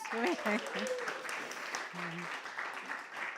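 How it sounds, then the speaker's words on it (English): A small audience at a Tower of Song music night applauds volunteers, a modest, fairly quiet patter of clapping with a voice speaking briefly over the start and again near the middle. "Another round of applause."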